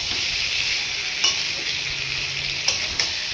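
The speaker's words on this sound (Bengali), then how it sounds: "তারপরে আমি এই আবার আলু আর বেগুনটা দিয়ে আবার কষাচ্ছি" Potatoes and eggplant sauté with spice paste in a steady bright sizzle, with a few sharp clicks from stirring utensils against the pan, close and continuous.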